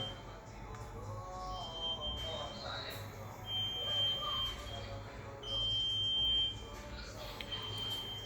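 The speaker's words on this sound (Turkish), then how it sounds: "Mesela bir alarm verdim. Cihazın alarm sesi gerçekten çok yüksek." A loud, high electronic alarm tone from a Masimo SAT 801 pulse oximeter sounds in repeated long beeps while a person talks underneath.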